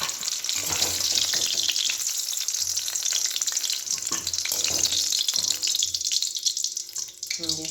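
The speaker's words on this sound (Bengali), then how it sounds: "এই যে আলুগুলো লাল লাল করে ভাজা হয়ে গেছে, এবার আমি আলুগুলো তুলে নেবো।" Potatoes frying in oil in a home kitchen while biryani is being made, a steady broadband sizzle running throughout with occasional clinks and stirring knocks, fairly close and with no talk.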